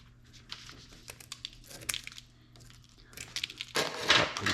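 Close, crisp crinkling and snipping as braided cable shielding and foil are cut back during a RayClic connector installation, scattered cuts and rustles that grow louder toward the end.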